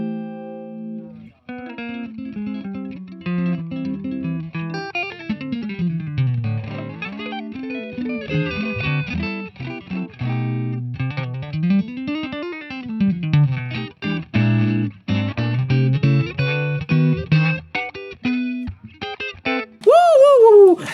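An electric guitar run through a Vibrophase vibe-phaser effect pedal, with sweeping, wavering tones and repeated phrases over about twenty seconds, played alone without talk.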